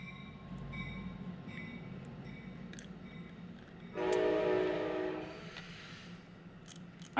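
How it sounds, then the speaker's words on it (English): A train rumbles past in the distance, with a steady low roar, a bright horn-like tone rising for about a second and a half midway, then fading back to the rumble. "hold on, let this train go by."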